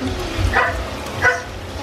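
A dog gives two short, sharp barks close by, about a second apart, against faint background noise.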